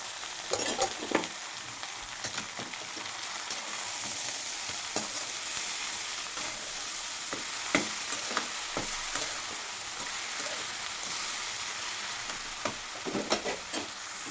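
Cooked amaranth greens and beans are stirred into onion and garlic frying in a pan, a soft continuous sizzle with scattered spoon scrapes and taps at close range.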